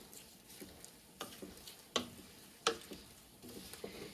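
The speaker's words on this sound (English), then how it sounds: "I'm going to mix all those in" Porcupine quills stirred in dye, heard as faint, close clicks and light taps of the quills against the container, a few sharper ticks spaced irregularly over a soft wet swish.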